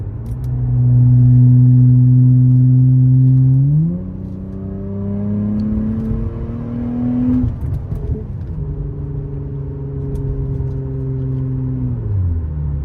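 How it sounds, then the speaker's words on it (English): Acura TL engine with a custom cutout valve exhaust, valve open, droning loudly then climbing through several smooth rev rises and holds, a deep rumbling tone steady throughout, heard from inside the car with no talking. "What if I turn that back on again?"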